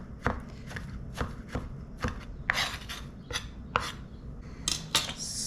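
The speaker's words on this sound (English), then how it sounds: "so now you have to cut into small pieces" Squeezed soya chunks being chopped into small pieces with a knife on a board, a series of crisp close knocks and scraping cuts in an irregular rhythm, some strokes louder and longer than others.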